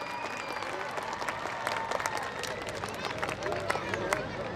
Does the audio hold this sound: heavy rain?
no